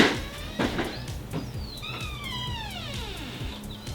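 A cat meows several times in a row, the later calls long and sliding downward in pitch, fairly close and clear over a quiet room.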